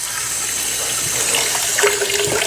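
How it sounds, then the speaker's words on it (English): Tap water runs steadily into a bucket to mix with cleaning soap, a close, continuous rushing splash that holds even and loud throughout with no talk. "I'm going to fill the rest of the bucket up with water after that"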